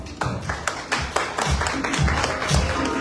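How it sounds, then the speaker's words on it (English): Audience at a Mrs Grand Universe 2023 sashing ceremony and press presentation gives a round of applause: a few scattered sharp claps at first, quickly building into dense, sustained clapping from many people. "A big round of applause, please."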